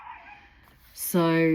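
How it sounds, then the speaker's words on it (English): A pet dog barks loudly and close in a home, a sharp burst following a brief spoken word and soft background noise. "Please excuse my naughty dog in the background there."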